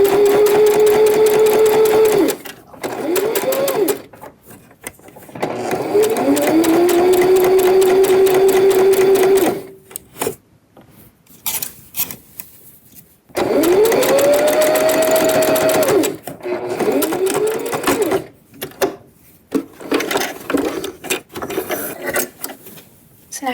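A sewing machine topstitches bias binding on a woven T-shirt, running in loud close whirring bursts that stop and restart, with short quiet pauses and faint handling noise between runs.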